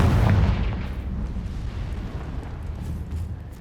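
A Confringo fire spell blast in Hogwarts Legacy erupts as one heavy low boom at the start, then rumbles and crackles away into a fading roar, with no talking.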